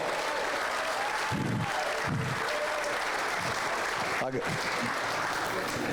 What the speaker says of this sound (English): round of applause for Gerald